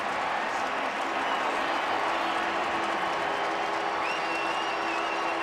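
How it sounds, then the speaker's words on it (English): Football stadium crowd roaring after a Colts touchdown catch by Austin Collie in a 2010 Jaguars vs Colts game, a dense, steady wash of distant cheering and applause with a faint whistle-like tone near the end. "And listen to this crowd cheer Austin Collie."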